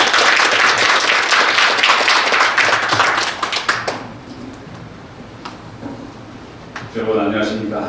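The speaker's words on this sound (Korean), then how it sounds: "큰 박수 부탁드립니다." Audience applause at a business school executive MBA graduation ceremony, dense clapping that fades after a few seconds, followed by speech.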